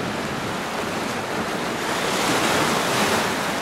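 Ocean waves washing ashore by the sea, a steady broad roar of surf with wind buffeting the microphone, close and continuous without voices.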